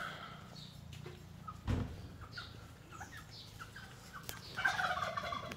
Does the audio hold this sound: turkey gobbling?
yes